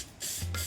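Two short bursts of hairspray hiss from an aerosol can, sprayed onto hair styled with hot rollers, close and fairly loud, the second burst longer than the first.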